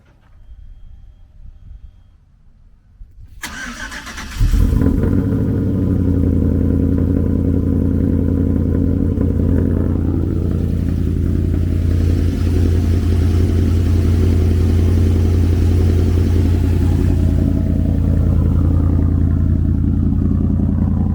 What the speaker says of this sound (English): See if she turns over nice and see if she starts running better.